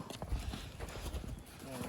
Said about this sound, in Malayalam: ഈ കുതിര എന്താ കഴിക്കുന്നത് മഞ്ഞോ